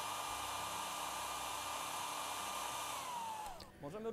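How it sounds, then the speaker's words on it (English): A hairdryer blasts a steady stream of air onto the blades of a small model wind turbine, a constant whirring hiss that holds evenly, then winds down in pitch and cuts off near the end. "We should take a hairdryer and a direct stream of air onto the blades of our rotor."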